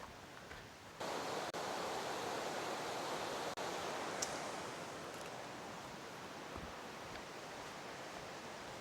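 Steady broadband rush of a river flowing beside a forest trail on Vancouver Island, a continuous close wash of water with no talk.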